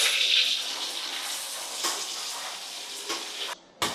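Blended chili paste hits hot oil with sliced tomato and sizzles loudly and steadily in a pan, with a few stirring scrapes breaking through near the end.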